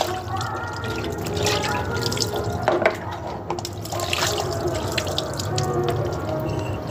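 Chopped vegetables rinsed under running water, with continuous close splashing and trickling from a tap and some dripping and handling noise throughout.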